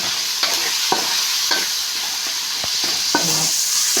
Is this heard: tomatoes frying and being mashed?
yes